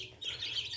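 Black desi breed chicks chirp softly in a brief high-pitched burst, faint and close.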